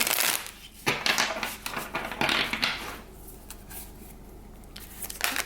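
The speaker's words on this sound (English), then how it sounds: "let's shuffle this one more time" A deck of tarot cards is shuffled up close in irregular riffling bursts and crisp slaps, with no talking over it.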